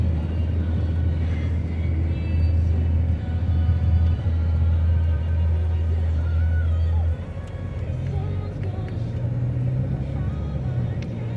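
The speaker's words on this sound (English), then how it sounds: "there come those 3 trucks up back there" Three semi trucks on a highway heard from inside a vehicle, a heavy low engine and road rumble that holds steady, then shifts to a lighter drone partway through as they pass, with some talk.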